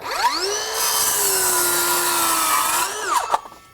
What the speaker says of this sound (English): Let's just see how it cross cuts